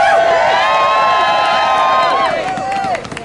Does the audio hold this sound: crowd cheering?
yes